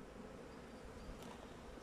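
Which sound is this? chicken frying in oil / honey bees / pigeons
honey bees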